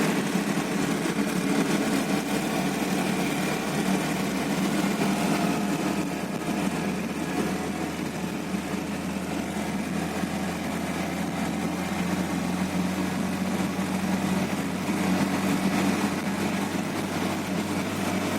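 A Lada Niva running in second gear with its transfer case still fitted, a loud steady low engine drone and cabin rumble filling the whole stretch without pause.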